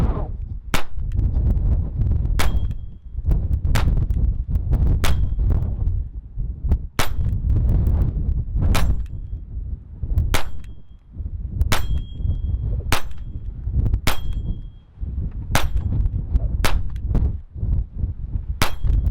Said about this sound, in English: I'm gonna shoot some cheap Remington Golden Bullet.